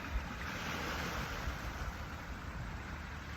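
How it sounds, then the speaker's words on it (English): Ocean waves roll and wash in a continuous broad roar, full and close, with wind noise layered over the surf and no talk. "the sounds of the waves are an experience"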